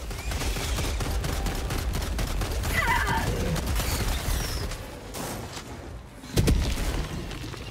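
A dense, continuous barrage of gunfire and booming blasts from a grenade and an orbital laser strike in Helldivers 2, loud and sustained, with a sharper burst near the end.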